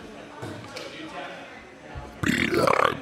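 A person lets out a loud, drawn-out burp close up after a brief quiet stretch, with people talking.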